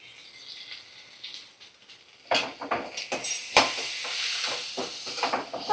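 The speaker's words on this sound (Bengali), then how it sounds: "মশলার সাথে ভালো করে আমি কষিয়ে নেব" Cumin paste and ginger-garlic paste sautéing in a pan: quiet at first, then a burst of sizzling with clinks and scrapes of a utensil against the pan as the spices are stirred.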